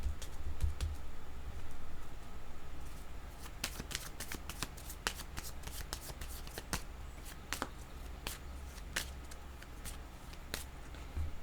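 Tarot cards are shuffled in a rapid run of crisp riffles and slaps, some sharp snaps standing out, over a quiet low hum with no talking.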